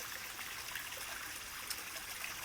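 Small garden waterfall trickling steadily into a newly finished pond, a continuous soft splashing and babbling of water close by, with no talking over it.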